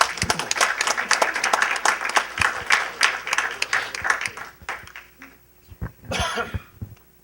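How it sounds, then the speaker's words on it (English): Applause for the Chief at a community committee meeting, a burst of scattered clapping from a modest room of people that fades out, followed by a cough and some throat clearing. "let's give a round of applause for the Chief"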